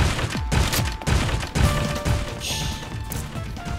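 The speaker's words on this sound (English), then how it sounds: "Evidently they are fully automatic barrel cannons." Barrels fired from fully automatic barrel cannons in Ape Escape 3, a series of repeated heavy thumps and crashes at an irregular rhythm, close and fairly loud amid game music and effects.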